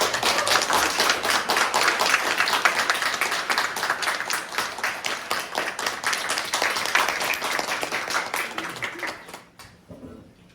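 Audience welcoming a clarinetist at a Tuesday classical concert with warm, steady applause of many hands, dense and sustained for most of the stretch before it thins out and stops near the end.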